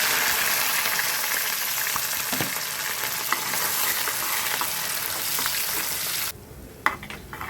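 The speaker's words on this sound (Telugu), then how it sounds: "ఉల్లిపాయ పచ్చిమిర్చి ఫ్రై అవుతుందండి." Sliced onions and green chillies frying in oil with mustard seeds inside a pressure cooker for a curry, a dense continuous sizzle that drops suddenly near the end, followed by a few sharp clinks.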